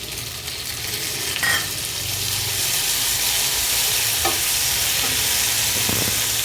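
Tomatoes fry in a pan for masala macaroni, giving a steady close sizzle with a few scraping stirs of a spoon against the pan. No one speaks.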